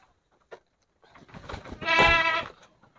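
Goats kept together in a breeding pen, a group of about fourteen, with a loud drawn-out bleat rising near the middle after a few softer calls and rustles nearby.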